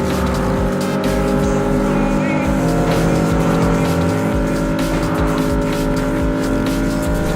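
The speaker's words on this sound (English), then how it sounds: "If you crave realistic driving on mobile, Carx Highway Racing is pure adrenaline." A loud racing car engine from the mobile driving game CarX Highway Racing roars continuously, with tonal revving and tire squeal over a dense, close mechanical drone and no speech.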